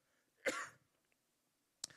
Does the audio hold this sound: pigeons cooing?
no